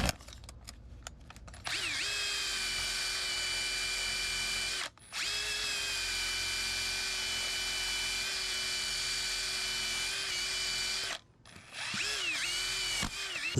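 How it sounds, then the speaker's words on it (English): Powered wire brush scouring rust from the front brake hardware of a 2022-2025 Nissan Pathfinder in New England, a loud steady whine that cuts out briefly, runs on, stops, then revs up again near the end. "Clean out the rust. Just gonna use a wire brush."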